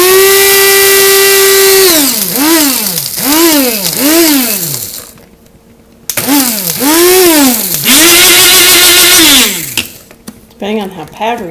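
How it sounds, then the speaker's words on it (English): An electric grinder pulverizes dehydrated peppers in loud whining bursts, its motor pitch dropping and rising as it pulses on and off several times with brief pauses between. "And we're going to grind it."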